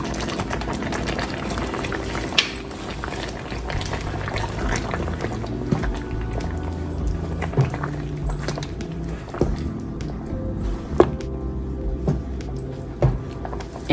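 A chicken and mushroom sauce simmers gently in a pan, giving off soft bubbling and occasional pops and clinks at close range. The sound is quiet and steady throughout.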